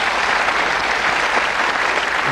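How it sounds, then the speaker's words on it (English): A TV game show studio audience applauds, a dense, steady burst of clapping from many hands that fills the room, loud and continuous throughout. "Give Richard a round of applause, please."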